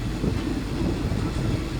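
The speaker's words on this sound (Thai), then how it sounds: "นี่ครับรถไฟที่ว่ารถไฟสับรางเข้าออกลบหลีกกันยังไงนะครับ" Express train 141 from Bangkok to Ubon rumbles steadily over the points as it switches tracks between Lam Plai Mat and Buriram, a loud, continuous low roar without voices.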